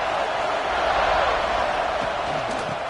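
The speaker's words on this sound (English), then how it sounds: "It's early, but this crowd is fired up. Listen to this noise here." Stadium crowd at a USC vs UCLA college football game, a loud, steady roar of cheering and noise that holds strong and unbroken throughout, with no clear talk over it.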